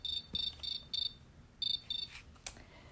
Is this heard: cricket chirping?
yes